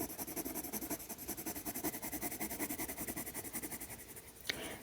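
Colored pencil scratching steadily across paper while drawing an apple cider mug, a close, rhythmic rasp of quick back-and-forth strokes that ends with one small tap.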